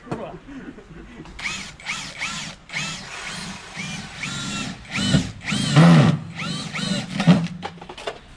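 A power drill drives a tek screw in a series of short, loud whining bursts of rising pitch, repeated about a dozen times in quick succession, with brief pauses between pulls on the trigger.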